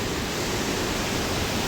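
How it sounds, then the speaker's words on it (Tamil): Waterfall pouring out of a cave at the foot of a large mountain: a dense, steady broadband roar, loud and continuous, with no other sounds. "இந்த அருவி தான் அதனுடைய தண்ணீர் ஓடுகிறது"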